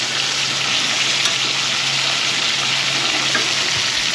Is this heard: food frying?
yes